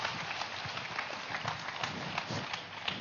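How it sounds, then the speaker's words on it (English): Audience applause at an inauguration event, a dense wash of steady clapping from a crowd filling the whole stretch without a break. "Yes, give us a huge round of applause."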